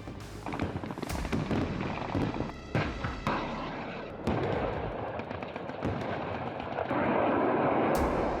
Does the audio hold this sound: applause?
no